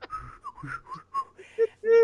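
A person whistles a short, wandering tune of several quick melodic notes, close and clear, ending on a longer held note, with no other sounds.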